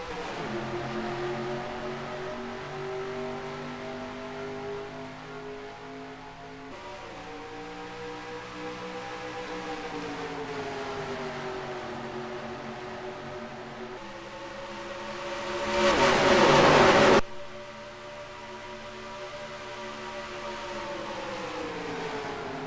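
A pack of stock cars roars off at the green flag in a racing video game set at Kansas, their engines a steady layered drone that rises and falls in pitch, with one brief louder burst midway.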